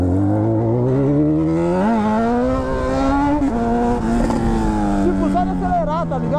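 A Honda CB1000 motorcycle revs hard and accelerates during a wheelie, its engine a loud, continuous close-up drone that climbs and holds in pitch, with a rider's voice mixed in.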